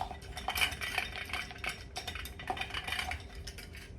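A utensil stirs Kung Pao shrimp sauce ingredients in a bowl, clinking and scraping against the sides in quick irregular strokes, close up and alone.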